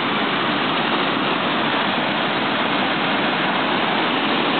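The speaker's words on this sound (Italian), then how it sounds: "Di solito l'acqua appena appena supera questo muretto, mentre ora vediamo che è in piena totale." The Meschio river in full flood at the old Farina mill in San Giacomo di Veglia, Vittorio Veneto, a loud, dense, unbroken roar of rushing water spilling over a low wall, steady throughout with no voices.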